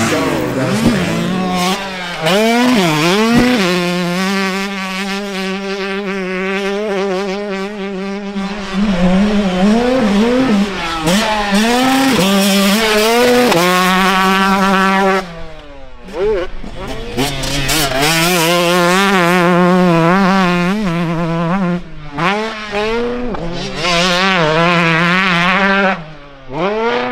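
A 2025 GASGAS motocross bike is ridden hard, its engine revving up and down through repeated climbing and falling pitches with brief drops between bursts, loud and close, with no talking.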